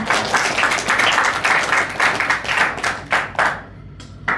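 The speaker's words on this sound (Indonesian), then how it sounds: "Tepuk tangan dulu untuk kita semuanya." Audience applause at an inauguration ceremony for the KMKM board and supervisory committee, a dense steady clapping from a room full of people that thins and fades out in scattered claps near the end.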